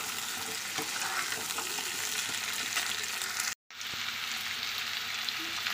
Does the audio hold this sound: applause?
no